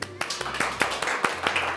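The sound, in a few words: applause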